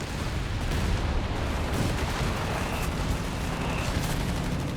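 Dense gunfire and artillery in a Company of Heroes 3 battle, a loud continuous roar of overlapping booms and shot bursts with no break.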